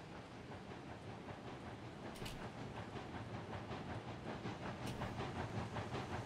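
A steam train in the Railroads Online video game hauls a heavy load uphill, its rhythmic chuffing and clatter steady and moderately loud, with two short hissing bursts of steam.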